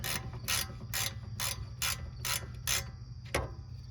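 A ratchet loosens a bolt on a 2003–07 Honda Accord rear hub, giving seven quick, evenly spaced bursts of crisp metallic clicking, then a short gap and one last sharp click, close and clear.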